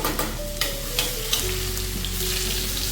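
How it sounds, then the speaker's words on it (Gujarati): Cumin seeds with ginger-garlic paste sizzle steadily in hot oil for a chana masala tadka, a close, continuous frying hiss with a few light clicks of stirring and no voices. "તેલ આપણું ગરમ થઈ ગયું છે હવે એક ચમચી જેવું આપણે જીરું એડ કરશું"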